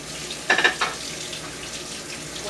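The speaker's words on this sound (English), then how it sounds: "So I want to rinse my hands quickly because I was working with raw eggs" Tap water runs over hands being rinsed at a kitchen sink after handling raw eggs, a brief splashing burst followed by a soft, steady flow, close and fairly quiet.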